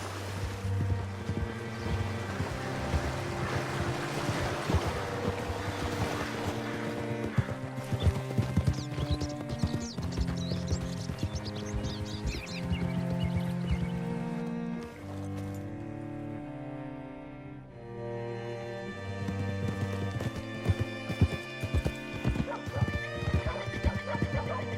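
Horse hooves clip-clop in a video game as the horse is ridden, a steady gallop rhythm running beneath a swelling orchestral music score throughout.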